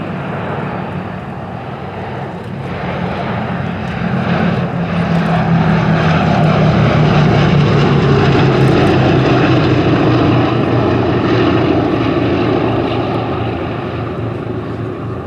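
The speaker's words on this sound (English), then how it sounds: "The lovely noise from those four 1200 horsepower Wright Cyclone turbo supercharged radial engines." Deep, throbbing roar of a bomber's four Wright Cyclone turbo-supercharged radial piston engines passing overhead at an airshow, swelling louder in the middle and fading gradually, with no voices.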